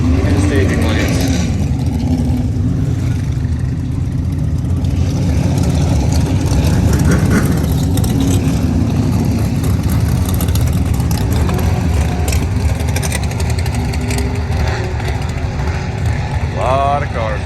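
Drag racing cars at the Mason-Dixon Dragway in Maryland during SBRA bracket finals rumble loud and close in a steady idle, with engines revving and swelling over the continuous low drone, and people talking under it.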